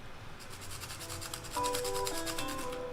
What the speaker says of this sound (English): going to sharpen really nice here the black, so it's really pointy